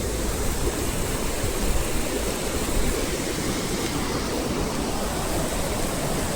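Fast-flowing river water rushes below the bridge at Lalpur Dam in Rampur. The broad, steady roar is loud and close and never lets up, with no voices.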